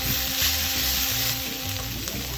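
Seasoned onions sizzle in a pan while being stirred, a brief, close, steady frying hiss with soft low scraping underneath and no talking.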